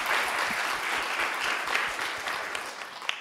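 Dense, steady audience applause fills a stage hall during an authors' conversation event, a crowd clapping loudly and continuously with a few sharper claps standing out near the end.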